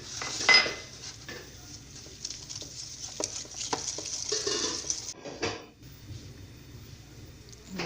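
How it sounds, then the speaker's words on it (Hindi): Sugar being mixed into cream in a bowl, with continuous close scraping and light clinking of a spoon against the bowl, pausing briefly near the end. "अब मैं क्रीम में चीनी डाल लूँगी, इसको अच्छी तरह मिक्स कर लूँगी।"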